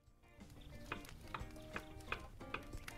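Fries sizzle in hot oil in the Kebab Chefs restaurant simulator game, a steady crackling hiss punctuated by regular clicking ticks roughly every half second, with no talk.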